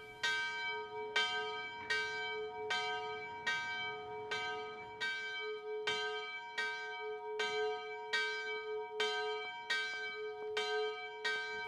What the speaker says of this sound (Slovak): Z tohto obdobia sa v Trnave zachoval zvon Mária v kostole Panny Márie Pomocnice